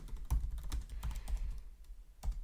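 Several bursts of keystrokes on a computer keyboard, clustered near the start, middle and end of a short stretch with pauses between; close and clear, no voices.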